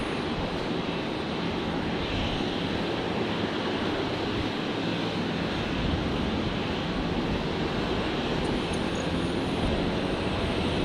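A Qantas airliner arriving at Brisbane from Sydney produces a loud, steady broadband engine roar that holds for the whole stretch without pause.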